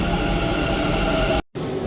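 A metro train running past on an opposite track, heard from a car on a Bangalore road: a loud, steady rail rumble with rolling wheel noise, cut by a brief dropout near the end.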